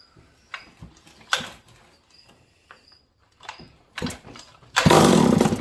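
A Stihl 038 Magnum chainsaw with a repaired clutch, heard through a few scattered clunks and handling noises before one sharp pull fires it into a loud, steady close-up engine roar.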